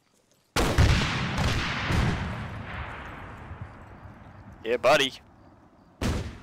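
Gunfire in the video game Arma 3, with a single loud shot whose echo rolls away slowly, a few fainter follow-up reports, and a short burst near the end, while voices talk over it.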